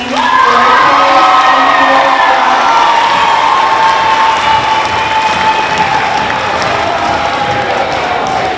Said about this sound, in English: Let's give a round of applause for Sydney